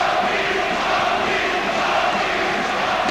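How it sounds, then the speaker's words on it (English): A packed German boxing arena crowd chants and roars during a Chris Eubank title fight, a dense, continuous wall of voices at steady loudness with no break. "So the chants from the packed German crowd here, Rocky, Rocky."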